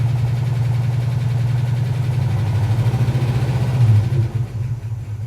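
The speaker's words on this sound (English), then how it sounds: "we've been idling for almost half an hour now" A 1971 Ford F250 truck engine with a failing cooling system idles steadily nearby, a low even rumble with a slight pulse that wavers briefly before settling; no voices.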